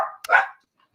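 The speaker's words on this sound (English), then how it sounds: "that's my dog, Charlie." A pet dog barks twice up close, a short sharp bark followed by a louder fuller one, then quiet.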